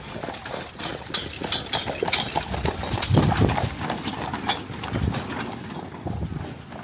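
Horses' hooves clip-clop steadily past at close range on a dusty, windy showground during a country heritage festival, a busy irregular patter of hoofbeats over gusty background noise, with no talking.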